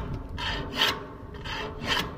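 A long-handled scraper rasps across a ship's steel hatch cover, stripping old sealing tape in repeated rough scraping strokes, close and fairly quiet, with no talk.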